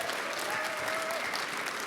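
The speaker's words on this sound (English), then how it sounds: "So we can give an in absentia round of applause." A short, moderately quiet patch of audience clapping at a celebration reception, steady and crowd-like, with a faint tonal whine running through it.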